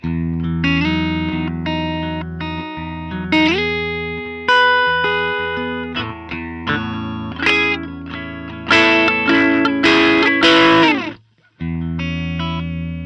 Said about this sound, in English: clean tone right now is a Fender custom shop Tele going into a Walrus Audio 385 Mark II, into the BigSkyMX, into the HX Stomp